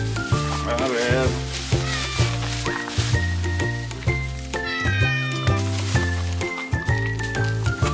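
Cat meowing repeatedly while eating, its calls rising over steady background music and some talk.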